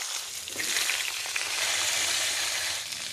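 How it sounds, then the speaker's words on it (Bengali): Pointed gourd (potol) frying in hot oil with chili, a steady close sizzle that holds even and strong from start to end, with no talk. "পটলগুলো লাল লাল করে একটু ভেজে নিয়ে"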